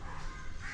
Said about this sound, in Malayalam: കാക്ക വിളിക്കുന്നത് കേൾക്കാം